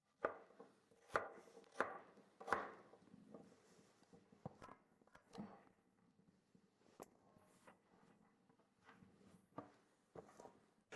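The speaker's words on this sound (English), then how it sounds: "Cut into rough pieces for the sauce." Knife chopping carrot into rough pieces on a cutting board, sharp irregular thunks spaced a second or so apart, close and fairly quiet, with soft handling sounds between strokes.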